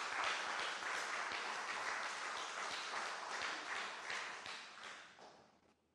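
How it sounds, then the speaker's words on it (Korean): Applause from a church congregation at a Wednesday evening service, celebrating an elder's birthday: dense, steady clapping from many hands fills the room, then tapers off toward the end. "김인서 장로님 생일을 축하하는 박수 한번 칩시다."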